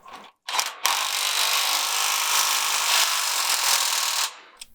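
A power tool runs in one steady, loud burst of about three and a half seconds while a fixture is bolted in place on an off-grid build, with a brief rev just before it.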